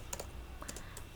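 A SQL query typed on a computer keyboard, a quick burst of soft key clicks in close succession, faint and near.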